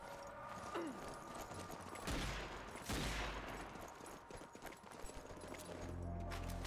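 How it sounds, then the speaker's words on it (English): Gunfire in Zombie Army 4 as a player shoots a wall, several sharp shots and impacts with noisy bursts around the middle, mid-level and spaced out over a busy game background. "Shooting the wall, buddy."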